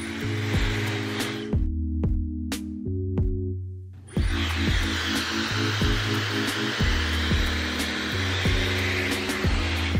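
A Dyson Supersonic hair dryer on medium airflow and medium heat, a steady whooshing hum with tonal whine, briefly dropping out and restarting midway as the setting changes, close and continuous with no talking.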